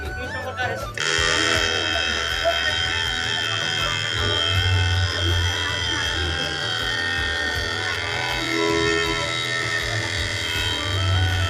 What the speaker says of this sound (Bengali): এটা হচ্ছে আমার মিনি জেনারেটর 12 চলছে